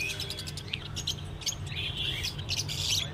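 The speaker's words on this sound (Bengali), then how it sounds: "এখানে দেখতে পাচ্ছেন জাভা আছে, ব্ল্যাক জাভা, ছেলে মেয়ে পড়াই আছে" Caged finches and Java sparrows, including black Java sparrows, chirp busily at the Garia bird market, with rapid overlapping tweets and squawks over a low market hum.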